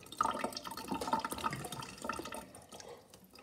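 Water runs and splashes from a tap at low volume, a steady trickling wash for a few seconds.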